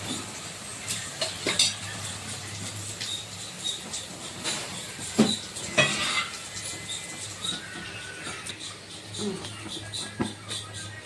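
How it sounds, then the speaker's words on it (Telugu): Chicken in a pot for pulao, with a little water just added, crackles with a soft sizzle, and scattered scrapes and clinks of a stirring utensil sound over it. "మనం చికెన్లోకి కొంచెం వాటర్ అనేది వేసుకుందాం."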